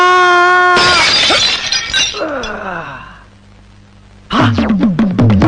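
Glass shatters with a loud crash, followed by clinking and tinkling shards, a quieter pause, then a further burst of sharp bright fragments close by, alone without speech.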